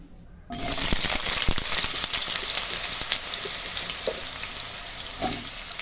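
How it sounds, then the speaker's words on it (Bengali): Green plantain pieces hit hot mustard oil in a kadai and burst into a loud, steady sizzle that fills the rest of the moment, with a few faint clinks and stirring sounds and no talking. "প্রথমে আমি কাঁচকলাগুলোকে ভেজে নেব।"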